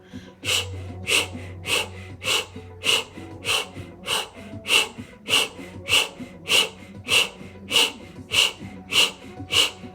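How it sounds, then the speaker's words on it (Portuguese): Breath of fire exercise done through a rounded mouth: quick rhythmic forceful exhalations repeat steadily, about one or two per second, close and loud with no talking. "boca arredondada, respiração do fogo pela boca"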